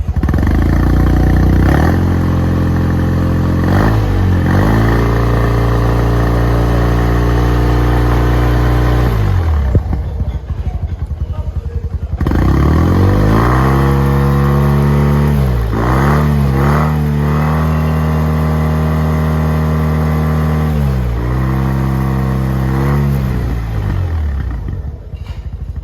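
A Yamaha TMAX 500cc scooter with a charging system failure revving its engine, with several rising and falling rev cycles, loud and close, separated by a short drop near the middle.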